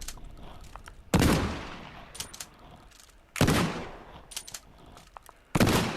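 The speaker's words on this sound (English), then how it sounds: "So yeah, shotgun, very effective." A shotgun fires three times in the Contractors VR video game on Oculus Quest 2, each loud blast spaced about two seconds apart with a sharp crack and decaying tail, separated by faint clicks of pumping or handling.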